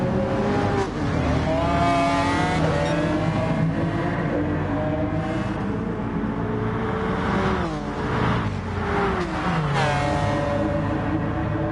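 A Citroen race car drifting in Gran Turismo Sport during a two-hour charity race, its engine droning and revving loudly and continuously with pitch sweeps as it slides, other cars nearby, no talk.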